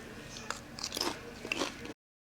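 Biting and crunching a tortilla chip topped with shrimp ceviche and avocado, several close, crisp crunches followed by chewing, quiet and without talk.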